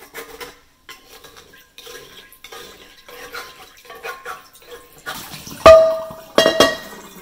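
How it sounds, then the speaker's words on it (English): A metal scraper rasps in short, repeated strokes against a cast iron pan to lift stuck residue, ending with two louder, ringing metallic clanks. "You can scrape these residues and it comes out pretty easily."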